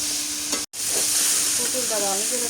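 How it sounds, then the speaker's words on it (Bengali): Pointed gourd sautéing in a pan for a fish curry, a continuous loud sizzle with the scrape of stirring, broken by a brief cut in the middle. "পটলটা ভালো করে কষা নিলাম"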